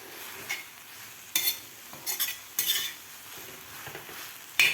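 Ambadi greens sautéing in a pan, a quiet background sizzle broken by several sharp spatula scrapes and clinks against the metal, spaced irregularly, with no one speaking.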